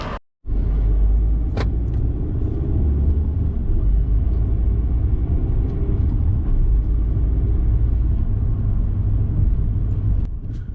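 A car driving through the countryside near the hamlet of Oakerthorpe, heard from inside as a steady, loud low rumble of engine and road noise that runs unbroken for the whole stretch after a brief silence at the start.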